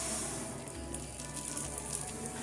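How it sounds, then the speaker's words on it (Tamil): Toor dal roasting in ghee in a pan, a steady soft sizzle and crackle running evenly throughout, close and fairly quiet with no voices. "இப்போ இந்த நெய்யில் இந்த பருப்பு நாம் வறுத்துக்கலாம்"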